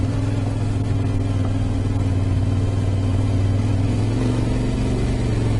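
Yamaha T700 motorcycle engine carrying two riders in first gear, a steady mid-pitched droning hum with continuous low rumble and wind noise throughout, no voices.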